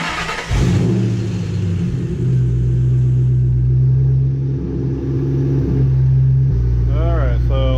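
A 2005 Ford Mustang GT V8 cranks and fires up loud and close, then settles into a deep, steady rumbling idle with a brief rev shift, with a voice speaking briefly near the end.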